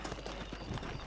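Horse hooves clip-clop steadily in the video game Red Dead Redemption as a rider mounts up and sets off, a continuous low patter of footfalls at moderate volume with no talk over it.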